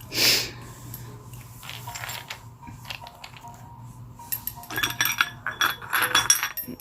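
A small colored glass dish from a thrift store gives a bright clink right at the start. Softer handling rattles and light knocks follow, growing busier toward the end, with no talking.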